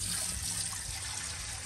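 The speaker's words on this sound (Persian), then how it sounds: "اولین کار قابلمه رو آب پر میکنیم" A cooking pot being filled with water from a tap to make Persian rice for a large crowd, a steady hissing trickle that runs close and unbroken without any talk.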